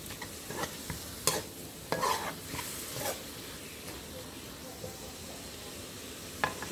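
Beef stir-fried in a pan with dill, a soft steady sizzle broken by sharp intermittent scrapes and clacks of the utensil against the pan, close by and otherwise free of speech.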